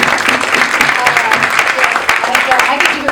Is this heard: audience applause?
yes